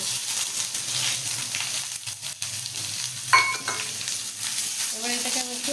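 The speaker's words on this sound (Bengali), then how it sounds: "একটু তেজপাতা ফোড়নে, আর এই যে একটু কালো জিরে, আর সঙ্গে আমি একটু পেঁয়াজ দিয়ে দিই।" Bay leaf, black cumin and onion frying in hot oil: a continuous moderate sizzle with occasional spoon clinks against the pan.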